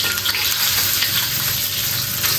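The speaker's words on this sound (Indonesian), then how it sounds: "Saya akan goreng ni pork luncheonnya terlebih dahulu ya." Pork luncheon meat fries in hot oil in a heated wok, giving a loud, steady crackling sizzle throughout with no talking.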